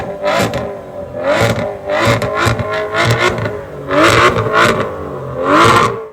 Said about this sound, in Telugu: అలాగే దీని యొక్క ఇంజిన్ సౌండ్ అయితే మీకు వినిపిస్తా, ఒకసారి అయితే వినండి